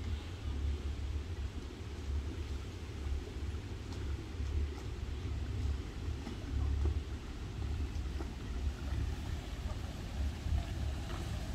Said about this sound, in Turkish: Balık tuttuğumuzun yerinin ön tarafından geçiyor tur teknesi.